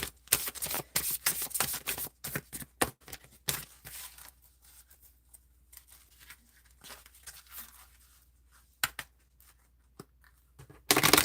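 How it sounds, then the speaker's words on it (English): Oracle cards being shuffled: a burst of rapid, crisp riffling flutters up close, then quieter handling with a few sharp snaps and rustles. "I'm gonna shuffle around."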